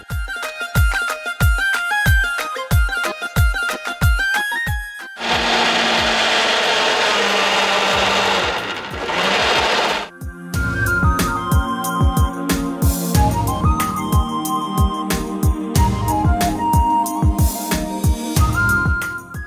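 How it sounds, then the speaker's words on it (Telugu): A mixer grinder blends a dragon fruit smoothie, a steady loud whirring roar lasting about five seconds, set between stretches of plucked, rhythmic background music. "నెక్స్ట్ వచ్చేసి దీన్ని మిక్సీ."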